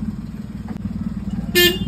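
A motorcycle pulls away at speed with a steady low engine drone running throughout. Near the end a short, bright horn toot cuts in over the engine.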